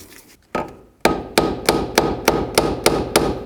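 Repeated hammer-like taps drive a door hinge bushing into a Chevy S-10 door hinge, about eight sharp evenly spaced metallic knocks that ring out close and loud with no talking.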